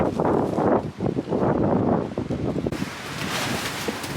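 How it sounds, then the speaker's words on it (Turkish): Strong wind roars and buffets the microphone in loud gusts, with no talking. "Ay nasıl rüzgar?"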